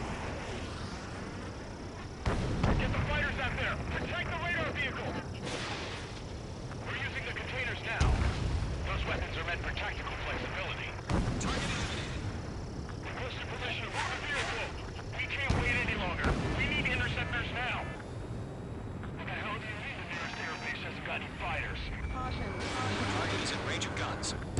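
Anti-aircraft gunfire and explosions roar through an Ace Combat 7 air battle, a dense continuous barrage with heavy booms and bursts, with radio voices talking over the noise.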